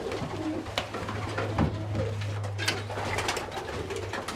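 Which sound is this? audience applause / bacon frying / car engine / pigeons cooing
pigeons cooing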